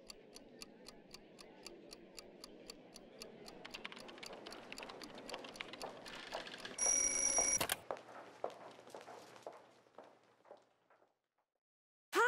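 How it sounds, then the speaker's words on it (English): A telephone rings in the 1-2 Switch minigame, heard as a rapid, regular bell-like trill that builds over several seconds, cuts off, leaves a brief quiet, then sounds again abruptly at the end. "Answer the phone as soon as it rings"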